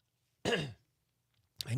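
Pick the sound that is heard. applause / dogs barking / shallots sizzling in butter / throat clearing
throat clearing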